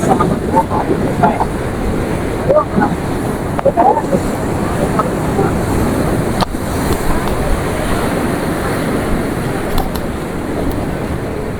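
Stormy sea surf breaking along the Dwarka shore, a steady loud wash of waves mixed with wind buffeting the microphone, continuous and close throughout.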